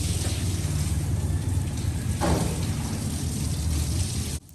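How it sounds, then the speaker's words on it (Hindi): Water from a hose pipe sprays and splashes across a tiled floor during cleaning, a continuous close hiss and wash with a brief stronger gush midway, cutting off abruptly at the end. "तो यहाँ पर मैं पानी लगाती रहूँगी और मेरी हेल्पर साथ के साथ वाइपर की मदद से पानी को निकालती रहेगी।"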